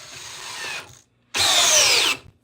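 A cordless drill with a 3 amp hour 21700 battery runs at speed 2, whirring loudly in two bursts separated by a short silence, with no talking.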